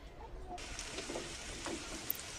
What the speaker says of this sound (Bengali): পরোটা ভাজা শুরু করে দিয়েছি